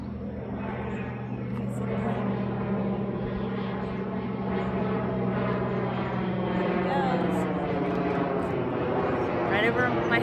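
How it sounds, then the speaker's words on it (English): A fixed-wing airplane passes overhead at an outdoor car-camping spot, making a steady, loud, continuous engine drone that holds throughout. Someone talks over it. "Here comes a plane."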